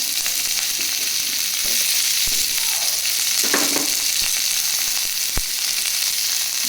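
One medium-size onion frying in a little hot oil over a medium gas flame, with a dense, constant sizzle throughout and a few faint knocks and scrapes of stirring.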